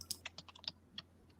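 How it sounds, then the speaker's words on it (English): Keys on a computer keyboard clack in a quick irregular burst of sharp taps, close and crisp, then trail off into a few scattered strokes. "You're typing real loud over there, Adam."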